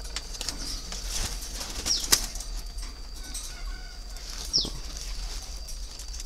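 A startled turtle dove in a cage flaps its wings in a few quick, soft bursts, close by, with small sharp clicks scattered through a quiet background.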